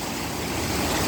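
Water rushes and splashes through a natural setting in a dense, continuous wash of sound, close and steady with no voices.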